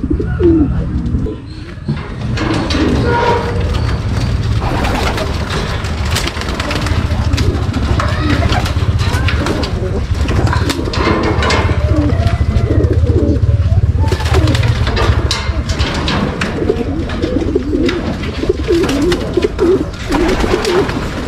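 Pigeons coo steadily near and loud throughout, with chirps and other bird calls mixed in and a person talking intermittently over them.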